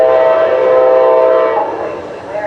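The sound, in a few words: CSX train passing with horn on SunRail corridor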